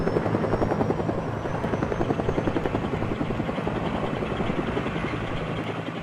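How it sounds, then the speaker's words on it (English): A helicopter flies steadily over a glacier, its rotor thumping in a fast, even rhythm under a continuous engine drone, loud and constant throughout. "the chopper heads out over the glacier."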